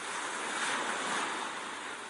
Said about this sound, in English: The waves splashed over the children.